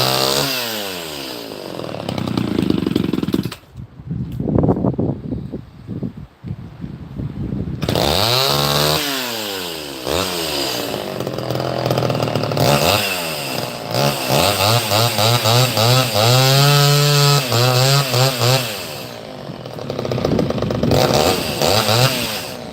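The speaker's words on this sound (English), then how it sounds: "They're beautiful, beautiful chainsaws." Chainsaws run loud and close, the engine revving up and down repeatedly with wavering pitch and brief idle dips throughout.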